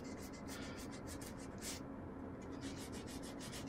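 Lockpick being polished with sandpaper, a steady close-up rubbing and scratching texture with quick repeated strokes, quiet and continuous throughout.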